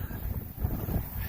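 Wind blows outdoors on a cold, windy day, buffeting the microphone in low, gusty rumbles for a brief moment with no talk.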